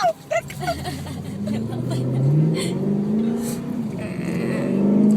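A BMW M3 engine revs up with a rising, droning pitch, loud and nearby, while voices chatter around it.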